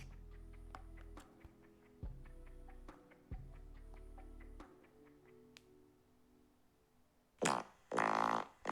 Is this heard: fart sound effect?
yes